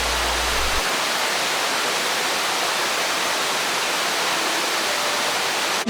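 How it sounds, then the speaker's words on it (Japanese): A powerful waterfall running high with abundant water at Kawamata, Inami, Wakayama, Japan, heard up close as a loud, unbroken roar of rushing and crashing water that stays constant throughout. "素晴らしい滝であります。"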